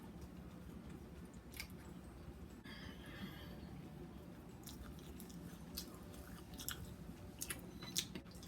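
Someone chewing a buttermilk biscuit while tasting it, quiet soft close bites and mouth sounds over a low background hum.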